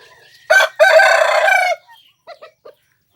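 Young rooster of a Thai fowl line crowing once loudly and close, a short opening note followed by a longer drawn-out call, then a few soft clucks trailing off into silence.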